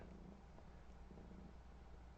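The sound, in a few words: cat purring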